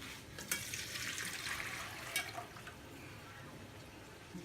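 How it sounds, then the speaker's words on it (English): Liquid pours and splashes faintly as yakhni pulao stock is strained into a pot, a soft watery trickle with a couple of small splashes. "Now we are going to add the stock back into this. So the stock has to be strained."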